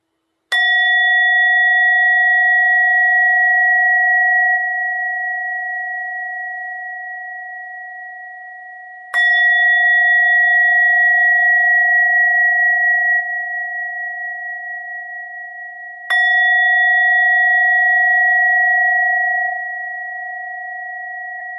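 Three meditation bells struck one after another at a steady spacing, each a clear ringing tone that lingers and slowly fades before the next strike, with no talking.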